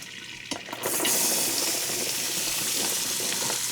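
Chopped celery and onions tipped into an Instant Pot for white chicken chili, a sudden rustling, pattering pour that begins after a soft knock and carries on as a steady close hiss with no talking.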